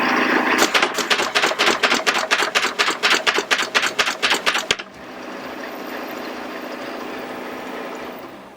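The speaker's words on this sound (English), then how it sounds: "So I'm going to let it go full speed. You get to see how fast this thing operates." A Martin Yale 2051 paper folder runs at full speed, firing off a rapid, evenly spaced burst of sharp mechanical clacks for about four seconds, then settling into a steady whirring hum as the rollers keep spinning.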